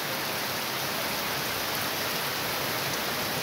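Steady, dense rainfall hisses evenly throughout, a continuous broadband wash with no breaks or voices.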